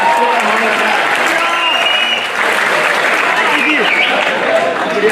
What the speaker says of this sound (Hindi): ताली बजाने को बजा दो